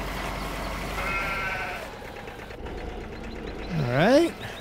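Sheep in Farming Simulator 15 bleat nearby, with a drawn-out wavering call midway and a louder, sharply rising bleat near the end, over a steady machine hum and low background noise.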